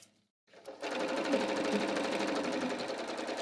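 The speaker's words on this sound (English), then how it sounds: "and now I stitch forward" A sewing machine stitches forward along a pant in-seam, starting after a brief pause and then running steadily at a fast, even rhythm, close and moderately loud.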